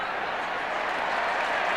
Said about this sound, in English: And they're roaring their approval of the Adelaide Crows at this stage of the proceedings.